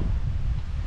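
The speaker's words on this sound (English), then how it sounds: "look at that wind blowing" Wind buffets the microphone of a GoPro Hero 13 or DJI Action 5 Pro action camera outdoors in low light, a steady low rumbling gust that fills the whole short moment with no talking.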